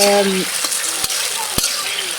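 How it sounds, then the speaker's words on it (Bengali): Small taki fish fry with spices in a pan, making a steady, close sizzle with a couple of sharp utensil knocks and a brief tonal sound at the start. "মাছগুলো দিয়ে আরও কিছুক্ষণ সময় মাছগুলো ভালোভাবে কষিয়ে নেব"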